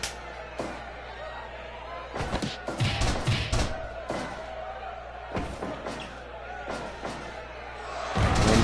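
Thuds and slams sound as a wrestler is taken down by a missile drop kick in a wrestling match, several heavy impacts spread over a few seconds amid crowd noise and commentary.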